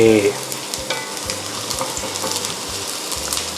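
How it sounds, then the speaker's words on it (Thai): Chopped garlic fries in oil in a pan over medium heat for a salted egg yolk sauce, giving a close, steady, bubbling sizzle with a few stirring sounds and no talking. "ใส่กระเทียมครับผม เจียวให้กระเทียมเนี่ยมีกลิ่นหอมนิดนึงนะครับ"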